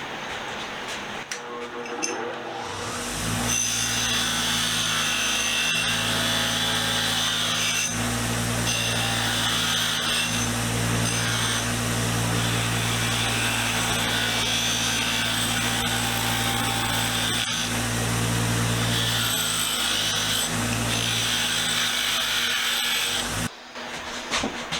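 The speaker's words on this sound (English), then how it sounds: "we're going to throw this on the wire wheel real quick and get this thing cleaned up" Bench wire wheel stripping rust and old paint from a cast metal part in a workshop, a loud steady motor hum with harsh scratchy grinding running continuously for about twenty seconds before cutting off.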